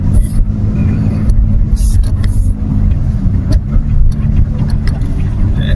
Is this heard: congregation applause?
no